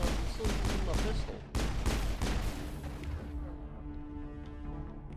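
Pistol gunfire in Mass Effect, a fast run of loud close shots and bursts that stops partway through, leaving a fading ringing tail and quieter ambient tones.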